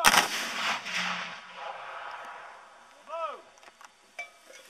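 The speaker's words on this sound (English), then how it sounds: "the colonel will now demonstrate to you the effect of a mass volley fire" A single massed musket volley fired by a line of Confederate Civil War reenactors at Pitzer Woods, Gettysburg, sounds as one loud outdoor crack with a long rolling echo. A few faint scattered pops and small noises follow.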